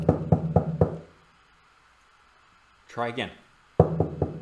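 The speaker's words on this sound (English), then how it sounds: "Oh, knock on the door." Knocks on a door ring out in a song-story performance, a quick run of four loud raps, then a sung or spoken phrase, then another burst of knocking.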